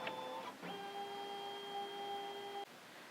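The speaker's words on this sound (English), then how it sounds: "we touch the scan icon and touch OK, and the machine begins to scan" A Brother Dream Machine scans a drawing, giving off a steady electronic whine with a short break near the start, then a sustained tone that stops abruptly.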